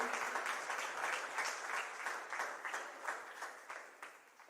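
A church congregation claps in sustained, even applause during a worship service, dense rhythmic clapping that slowly thins and fades toward the end, with no voices over it.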